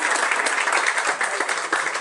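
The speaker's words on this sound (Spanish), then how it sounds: "Un aplauso por favor para Manuela." An audience applauds steadily and densely for Manuela, a young illustrator and designer, at a book event; the clapping holds at an even level throughout with no voices over it.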